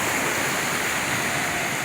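Ocean waves on a beach in the Dominican Republic, a steady broad roar of surf and rushing water close to the microphone, continuous and fairly loud with no talking.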